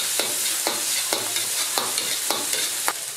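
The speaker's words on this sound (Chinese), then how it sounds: "将肉末炒散炒香，把肉末炒至表皮微黄" Minced pork stir-fried in a hot wok, a spatula scraping the pan in a regular rhythm of about seven close strokes over constant sizzling oil.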